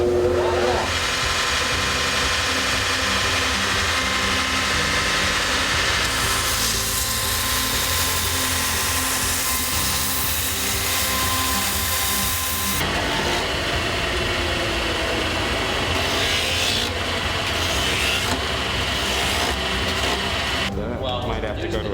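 Grinding on a craftsman's workpiece with a power grinder, a loud steady whine and rasp running almost continuously and changing pitch midway, with people talking over it.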